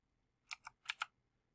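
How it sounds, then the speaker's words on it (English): Typing Python code on a computer keyboard: four crisp key clicks in two quick pairs, close and fairly quiet against a silent background. "So I'm going to start typing spawn."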